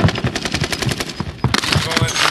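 Rapid bursts of automatic gunfire in Call of Duty Warzone Pacific, set on the Caldera map in a trios match, crackling loud and close in quick repeated volleys with a short lull before firing resumes.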